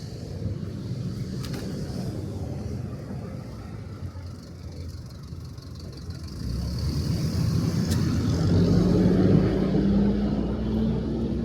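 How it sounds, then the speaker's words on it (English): A big FedEx truck turns onto a Brooklyn avenue, its low engine rumble swelling from a steady street background into a louder, closer drone that builds over the final seconds. "That was a big FedEx truck that was turning onto the avenue, if you heard that."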